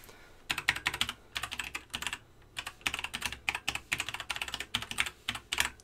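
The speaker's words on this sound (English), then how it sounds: "if I type in" Typing a website address on a computer keyboard, with bursts of close, crisp key clicks in quick irregular runs separated by short pauses, and no talking.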